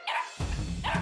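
A cartoon puppy named Jumpy gives two short, bright yapping barks close up, with a lower rumbling voice-like sound between them.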